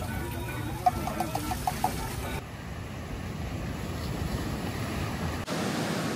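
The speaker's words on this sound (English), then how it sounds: "The sea today is pretty calm" Calm sea waves washing softly in a steady, faint surf wash with light wind noise on the microphone and no talking.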